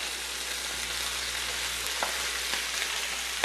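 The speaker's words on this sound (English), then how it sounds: "And we want to get that nice sizzle." Chicken pieces sizzle skin side down in a pan for braised creamy mustard chicken, a steady, faint hiss of frying fat with a few soft crackles and no talk.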